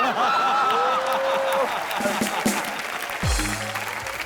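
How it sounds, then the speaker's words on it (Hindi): A studio audience at the Colors TV comedy show Entertainment Ki Raat breaks into loud, sustained clapping, with a few chuckles, while a host's voice carries on over it. "जोरदार तालियां।"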